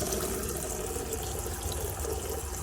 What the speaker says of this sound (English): come over to here, and just pull the hot tap